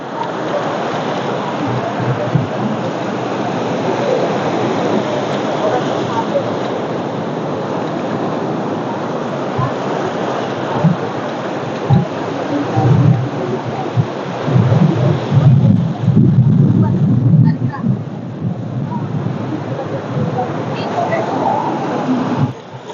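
Steady roar of sea waves breaking and washing onto the shore at Mullaitivu, Sri Lanka, loud and continuous, with surges of rushing water throughout.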